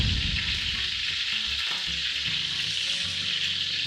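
Oxtail browning in a pan with pork fat, a steady close frying sizzle that crackles and spits continuously, with low clinks of stirring underneath and no talking.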